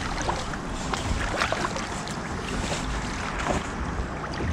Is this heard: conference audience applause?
no